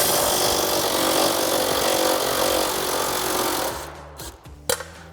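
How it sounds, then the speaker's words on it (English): A power tool drives a 13mm socket to remove bolts from a 2015-2020 Ford F-150 bumper near the tow hook area, whirring loudly and steadily for several seconds before stopping, followed by a few clanks. "So we're going to remove the outer bolts at the center of where your tow hook area is with our"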